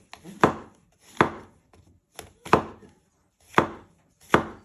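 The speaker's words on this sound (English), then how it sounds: "So next step, you want to prep your mushrooms. You just want to slice them." A knife slices mushrooms on a cutting board in six crisp, evenly spaced chops with quiet gaps between them, close up and with no talking.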